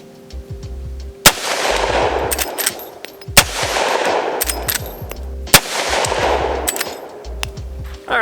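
Gunshots from a Henry .45 Colt Mare's Leg lever-action rifle fired outdoors, four loud sharp cracks spaced a couple of seconds apart, each followed by a rolling echo and faint mechanical clicks between shots.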